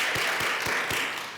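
Short burst of congregational clapping at a Sunday church service in London, a handful of evenly spaced claps over a soft wash of applause that tapers off.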